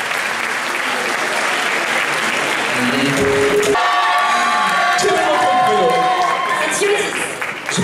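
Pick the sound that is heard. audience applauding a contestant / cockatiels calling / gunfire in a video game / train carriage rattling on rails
audience applauding a contestant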